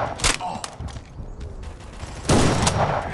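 Gunfire in the mobile shooter game Guns of Boom: sharp bursts of shots, a few scattered cracks, then a dense rapid volley near the end, with game announcer voice callouts in between.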